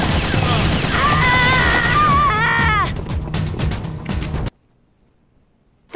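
Gunfire in the video game Metal Gear Solid: The Twin Snakes: a dense, loud burst of rapid shots mixed with screams and wailing cries, then a few scattered sharp shots before sudden silence.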